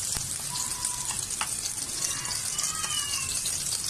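Garlic and onion sizzling in a hot pan, with a steady crackling fry throughout and faint clinks, loud and close.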